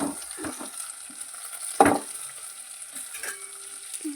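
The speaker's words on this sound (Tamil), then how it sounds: "போட்டுக்கிட்டு நல்லா வதக்கிக்கலாம்." Turmeric powder is sautéed in a pan with a soft frying sizzle, broken by a few sparse stirring scrapes and one louder knock against the pan.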